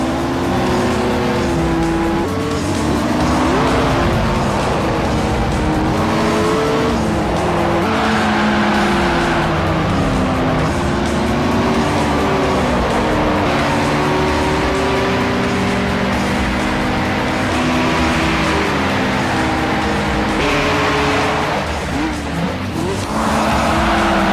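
Racing cars in the PS2 game Gran Turismo roar loudly with shifting engine pitch as they accelerate and change gear, with tire squeal and skidding mixed in, continuous and up close.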